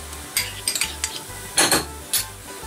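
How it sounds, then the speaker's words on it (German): Tomato paste is stirred and pressed into glassy onions in a pan. A spoon scrapes and clinks against the pan in uneven bursts, and a soft sizzle runs underneath. Nobody speaks. "Und das verrühre ich dann oder verdrücke ich dann erstmal wieder so ein bisschen."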